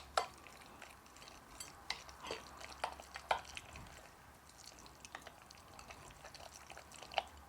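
Tuna mixture being stirred in a bowl with a utensil, producing soft intermittent scraping and clinking taps, close and fairly quiet, with no talking.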